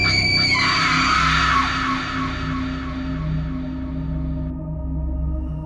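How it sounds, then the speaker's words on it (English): Screams echo from a bottomless pit, a horror-story sound effect: a loud, drawn-out chorus of shrieking, yelling voices that fades into a lingering reverberant wash, with a low droning rumble underneath throughout. "their screams echoing into eternity"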